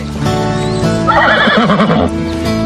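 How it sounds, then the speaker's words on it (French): Horses whinny with a loud, close, wavering neigh over a steady rumble, with hooves clip-clopping faintly underneath. "On ramène les chevaux."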